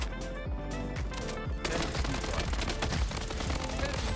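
Scar assault rifle in the shooter game Bloodstrike, firing in rapid automatic bursts, loud and close, the shots quickening into a dense stream in the second half.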